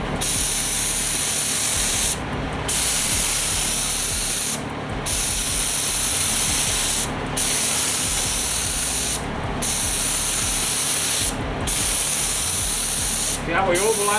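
Spray gun laying down a first paint coat on a car, a loud steady hiss in repeated passes of about two seconds each, broken by short gaps between strokes.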